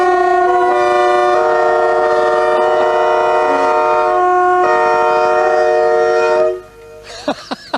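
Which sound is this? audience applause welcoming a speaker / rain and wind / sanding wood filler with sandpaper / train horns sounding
train horns sounding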